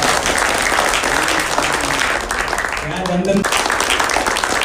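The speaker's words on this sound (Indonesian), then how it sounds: "tepuk tangan yang paling meriah untuk Anda semua yang bisa hadir di acara kita hari ini" A crowd applauds loudly at a meet-and-greet event in Jakarta, dense continuous clapping filling the room while an amplified voice talks over it and a few cheers rise partway through.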